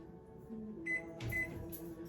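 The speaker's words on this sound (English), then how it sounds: "Once I figure out how to use my microwave." A kitchen microwave oven hums steadily at close range, with a few brief clicks and tonal blips over its low drone.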